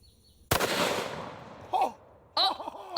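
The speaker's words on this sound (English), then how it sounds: "Remington 887, and I'll be loaded up with a 2 3/4 inch, 1 ounce slug" A Remington 887 shotgun fires a single 2 3/4 inch, 1 ounce slug, one loud sharp blast with a long decaying echo, followed by excited voices reacting.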